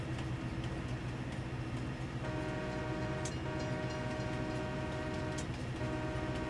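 A steady rumbling train runs in Farming Simulator 22, its horn sounding as sustained tones over continuous rail noise, with faint ticking and no speech.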